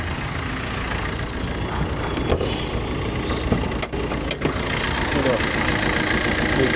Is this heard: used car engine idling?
yes